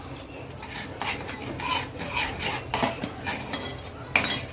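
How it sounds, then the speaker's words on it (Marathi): A spoon scrapes and stirs cluster bean (gavar) vegetable in a pan with chilli masala, turmeric and salt, giving close, uneven metallic rasping strokes in short bursts with no voices. "तर ही भाजी आपण व्यवस्थित परतवून घेणार आहोत"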